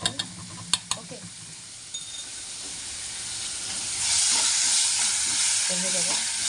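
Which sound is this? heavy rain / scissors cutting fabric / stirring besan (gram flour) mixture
stirring besan (gram flour) mixture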